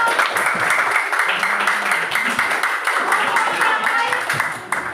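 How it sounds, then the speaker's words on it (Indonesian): A group of students in a class claps together, a continuous wash of applause held at a steady level, with faint voices mixed in underneath. "kelompok yang lain tepuk tangan dulu"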